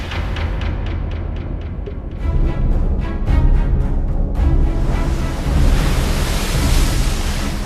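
Ocean waves churned up by a pod of orcas in a coordinated wave attack on prey, a loud, continuous rushing wash of surf and spray that builds and swells, with wind-like noise throughout.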